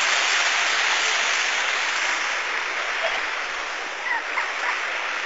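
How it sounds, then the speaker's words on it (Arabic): Natural hot spring water flows from mountain springs in a steady, dense rush of broadband noise, constant and fairly loud throughout. "هذا المي طبيعي ينبع من العيون من الجبال"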